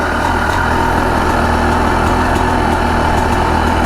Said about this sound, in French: Ralenti un peu haut, j'avais pas de quoi régler ralenti.